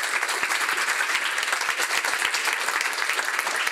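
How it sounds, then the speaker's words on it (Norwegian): Conference audience giving a round of applause, dense steady clapping from many people lasting a few seconds, with no one speaking over it. "En applaus til Kristine."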